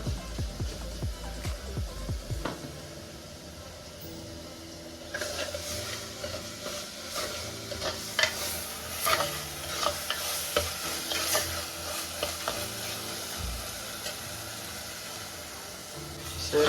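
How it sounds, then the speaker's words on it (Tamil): Chopped onions sauté in a pan for pepper chicken, the steady sizzle broken by repeated scraping stirs throughout; a few heavy low thumps open the clip before the frying noise settles in. "இதில் வந்து வெங்காயம் நல்லா வதங்கணுங்க"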